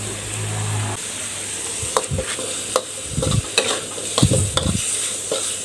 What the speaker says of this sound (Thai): ผมผัดจน มะเขือเทศเริ่มสุกแล้วก็ใส่น้ำเพิ่มได้เลยครับ